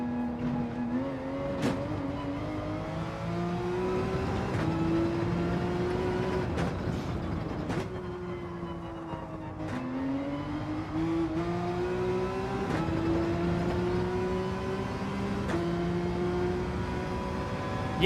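A Porsche race car in Gran Turismo 7 drones on continuously, its engine note climbing through gears and dropping at each shift, with occasional sharp clicks over the steady in-car roar.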